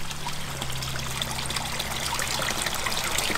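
A catfish slipped back into a warm backyard pond makes a steady trickle of moving water, a close, continuous splashing dribble with no voices.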